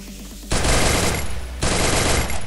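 Rapid automatic gunfire erupts in the mobile battle royale game Free Fire, two loud sustained bursts of machine-gun fire close by, starting abruptly and running almost continuously.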